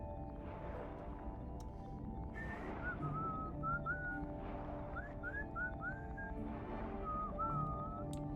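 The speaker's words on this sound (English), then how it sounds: "I think we're getting to the point when I start whistling songs" A person whistles a tune in several short, gliding melodic phrases with pauses between them, fairly soft over a steady low background hum during a Tower of Fantasy gaming session.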